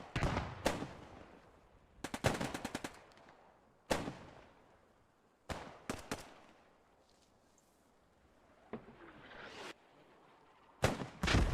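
Mortar blasts and gunfire in the Post Scriptum war game come as sharp, loud bursts, some in rapid automatic strings, separated by quieter gaps with distant rumble.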